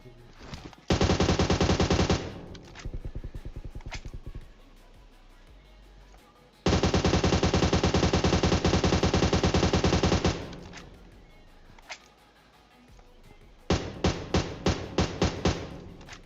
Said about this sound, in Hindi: ये वाला बंदा जो दूर से गोली चला रहा है ना